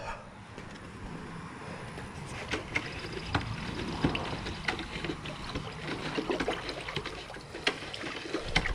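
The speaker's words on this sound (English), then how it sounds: "Now we're going to get a stick and stir it up" A stick stirs a gardening water solution in a container, making soft, irregular sloshing and trickling sounds with small splashy knocks, fairly quiet and steady throughout.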